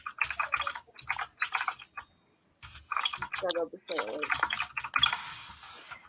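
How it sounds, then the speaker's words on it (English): Rapid clicking of computer keyboard keys runs under a person's speech, loud and close, with short pauses between bursts of typing. "your keyboard is overpowering Katrina"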